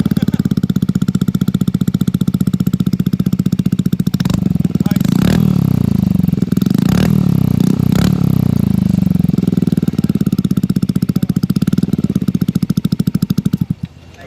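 A Yamaha Aerox 155 scooter fitted with a free-flowing SC Project MotoGP exhaust idles with a hard, loud, rapid rasp, blipping through several sharp revs midway before settling back and cutting off abruptly near the end.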